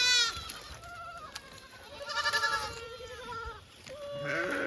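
Sheep bleat repeatedly at close range, several wavering calls in a row over a noisy outdoor background.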